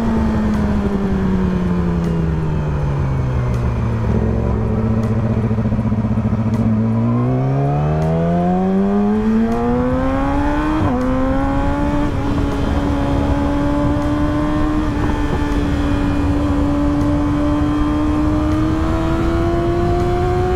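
A car's engine dips in pitch, then climbs steadily as it accelerates hard, with a brief shift-like break midway before the tone keeps rising, loud and close over road noise.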